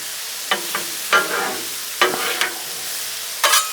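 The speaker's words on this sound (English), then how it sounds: "I sure do love cooking peppers and onions on here" Peppers, onions and bacon sizzling on a Blackstone griddle, a steady close frying hiss broken by several sharp crackling pops spread across the few seconds, with no talking.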